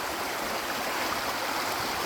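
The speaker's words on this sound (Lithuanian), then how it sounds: "Užtvenktas krioklys" Water rushes steadily along a levada channel fed by a dammed waterfall in the Madeira mountains, a dense, even, close-up roar with no break and no voices.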